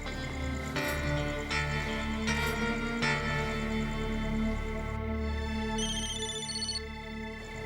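A telephone ringing in repeated electronic ring bursts, with steady background music beneath, on a call placed to a hotel; fairly close and clear, without any talk.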